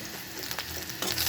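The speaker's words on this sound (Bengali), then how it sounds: "এই যে তেল মারছি, তেলের মধ্যে একটু কালার আসার জন্য একটু কালার আসার জন্য একটু মরিচ দিচ্ছি" Chili frying in hot oil gives a close, steady sizzle and crackle with a few louder spits, heard alone for a short moment.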